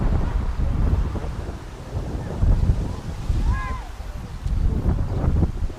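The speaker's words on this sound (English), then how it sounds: "The wind's again starting to pick up" Wind gusting across an outdoor women's soccer match, a loud, constant rumbling buffet against the microphone with brief faint voices and a whistle-like tone underneath.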